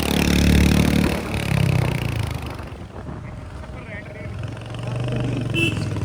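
A Royal Enfield Hunter motorcycle labours up a steep hill road in a low gear, its engine droning loud and close with some wind buffeting while people talk over it.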